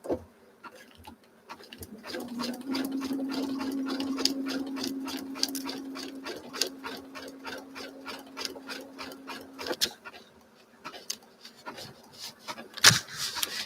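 A sewing machine runs a zigzag stitch along the outline of a dragonfly wing on water-soluble stabilizer, its rapid needle chatter steady and close, stopping briefly and then resuming with short bursts.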